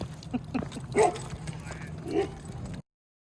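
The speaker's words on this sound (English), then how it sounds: "He's a puppy." A puppy barks and yips in a few short, high bursts, close by, with faint whimpering between them.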